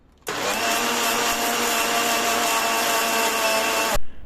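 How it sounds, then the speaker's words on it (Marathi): A mixer grinder whirs loudly and steadily for nearly four seconds as it blends frozen jamun pulp into a paste, starting abruptly and cutting off with a brief clunk. "आणि छान अशी मिक्सरमध्ये पेस्ट करून घेतली"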